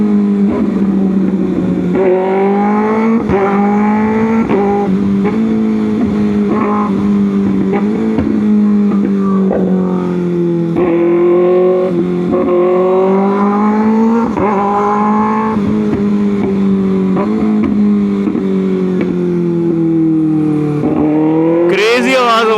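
Modified 2025 Kawasaki ZX6R motorcycle revving hard and loud up close, its exhaust popping and banging on each gear shift, with pitch climbing and dropping through a continuous run of shifts.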